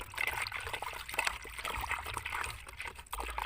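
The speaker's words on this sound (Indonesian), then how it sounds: "Langsung dituang ke dalam ember, lalu dilakukan pengaduan secara merata. Nah kita aduk secara merata seperti ini" Pesticide solution for chili seedlings is stirred in a bucket, giving a steady wet trickling and sloshing of liquid that continues throughout, fairly close and without talk.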